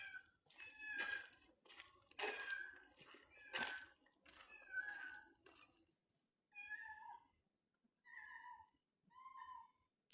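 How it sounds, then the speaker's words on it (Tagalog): Several cats meow in a public cemetery at dusk, a rapid run of overlapping cries followed by a few separate, fainter meows with quiet gaps between, fairly close. "Oh, ang dami ditong pusa."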